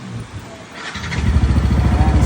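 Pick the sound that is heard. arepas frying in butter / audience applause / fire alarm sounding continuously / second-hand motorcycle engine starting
second-hand motorcycle engine starting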